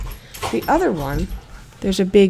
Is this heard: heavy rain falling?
no